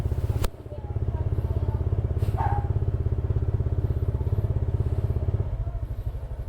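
A motorcycle idles steadily on a newly fitted aftermarket exhaust pipe, a close, loud, even engine pulse running throughout with a sharp knock near the start, and a brief voice heard over it.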